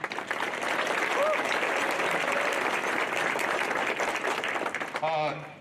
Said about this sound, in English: So a little round of applause for Cam.